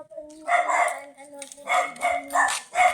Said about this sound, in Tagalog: So marami din kasi ng aso.